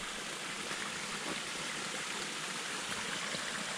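Stream water on a muddy woodland trail after rain flows in a constant broadband rush, near and even, with no voices.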